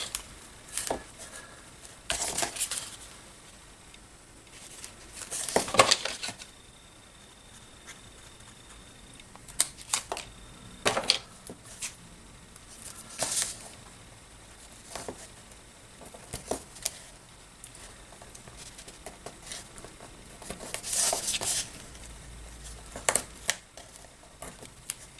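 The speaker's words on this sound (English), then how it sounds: "now we need to put some adhesive on these tabs. So I'm just going to use some double-sided tape" Double-sided tape being peeled and pressed onto card tabs for a farmhouse-style gift card set, with scattered soft crinkles, taps and tearing sounds at irregular intervals, a few louder rips, fairly close and quiet.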